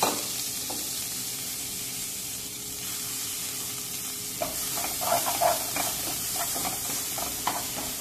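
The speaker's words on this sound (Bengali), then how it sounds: "রোজমেরি আর গার্লিক কিন্তু ভাজা হয়ে গেছে।" Garlic and rosemary frying in a pan make a steady sizzle, then a stretch of quick stirring with crackles and light clinks of the utensil, no voices.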